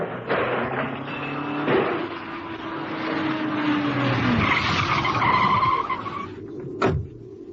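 A radio drama sound effect of a car swerving and plunging over an edge: a long loud tyre screech over engine roar, rising noise, then a sharp crash near the end before quieter rumble.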